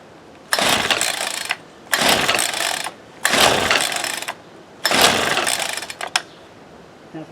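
A $5 Ryobi SS30 string trimmer's small two-stroke engine is cranked four times in a row, each pull a loud, rasping burst about a second long with short pauses between, close by and with no talk.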